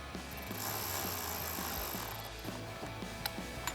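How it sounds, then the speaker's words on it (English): A ratchet with a T15 Torx socket tightens a headlight screw on a 2014-2018 GMC Sierra 1500, giving a faint, rapid rhythmic clicking that repeats in short strokes, with a couple of sharper ticks near the end. "I'll take a T15 torque socket to tighten down our top screw"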